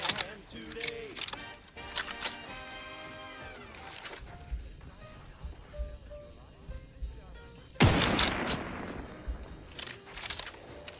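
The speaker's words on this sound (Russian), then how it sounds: "Случайно выстрелил." In The Outer Worlds 2, a single loud, sudden gunshot goes off partway through, amid clattering game effects and a voice talking.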